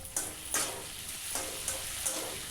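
Capsicum frying for chilli soya, a steady close sizzle broken by several rhythmic bursts of louder hissing as a spatula stirs and scrapes the pan.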